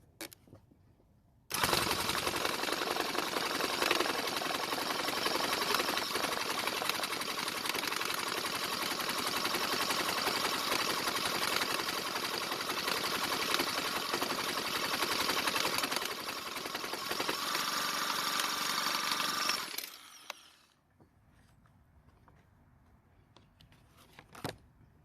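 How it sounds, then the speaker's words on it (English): A Jumpstart electric starter spins a Troybilt string trimmer engine in one long, steady, loud buzzing whir for about eighteen seconds, then cuts off abruptly, leaving quiet background. "I'm going to use the Jumpstart electric starter to make this a whole lot easier this time"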